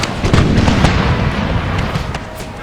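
Artillery fire in the Total War: Brother Against Brother battle game, a dense, loud barrage of overlapping booms and cracks rolling continuously without pause.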